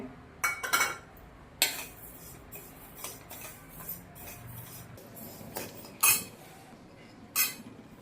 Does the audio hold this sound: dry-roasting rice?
yes